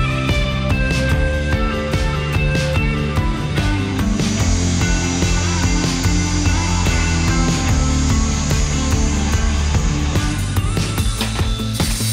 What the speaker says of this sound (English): We're going to use our drop saw to cut these lengths